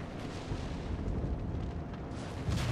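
In World of Warships, the Kongo's secondary guns keep up a steady low rumble of artillery fire, with muffled booms rolling on under the battle and a sharper report breaking through near the end.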